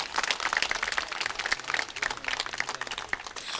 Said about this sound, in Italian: Quindi farei un caloroso applauso anche ad Ottavio Moretto.